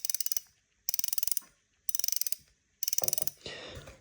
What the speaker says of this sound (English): the Vanquish has a bit of a louder clicker and a more hollow kind of sound to it